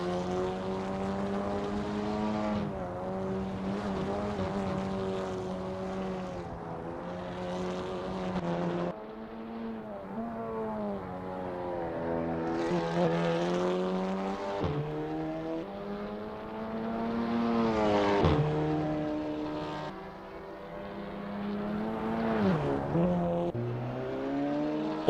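An Audi TT Cup race car in Assetto Corsa at Sonoma Raceway, its engine droning and revving steadily through upshifts and downshifts, pitch rising and dropping repeatedly through corners, loud and alone with no talk.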